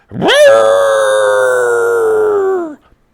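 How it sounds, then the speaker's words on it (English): A creature in a tabletop role-playing game lets out a single long, loud howl that rises sharply, holds a wavering tone for over two seconds, then slides down and stops. "You then hear it howl."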